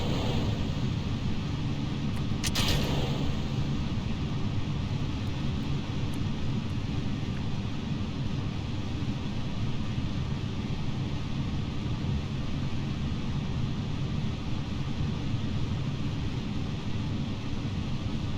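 Steady, loud roar of a rocket engine under throttle in Kerbal Space Program, a broad rushing noise holding constant throughout with a brief click near the start and no talk.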